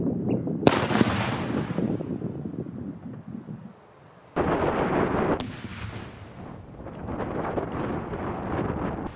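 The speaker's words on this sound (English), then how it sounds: "Let's head over to the range and blow something up with the blasting machine." An explosive set off at an outdoor range with an electric blasting machine gives a loud booming blast with a long rumbling tail, followed by further sharp heavy bangs a few seconds later.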